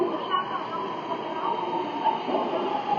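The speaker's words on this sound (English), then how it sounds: "The train to Sydenham is going to enter platform number 2." A Sydenham-bound train pulling into a platform at Chatswood station, which has platform screen doors: a steady rumble and hiss of rail cars rolling in, with a faint high whine throughout.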